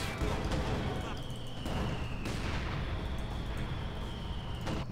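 A grenade goes off in the World War II strategy game Company of Heroes 2 during a 4v4 multiplayer match, a few sharp booming bursts rising out of a dense, continuous din of battle.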